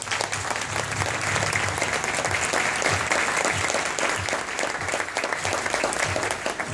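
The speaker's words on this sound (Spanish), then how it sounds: "que quiero que por favor le den un fuerte aplauso" A large audience at a business training workshop claps loudly and continuously, a thick wash of many hands with a few cheers mixed in, sustained from start to finish.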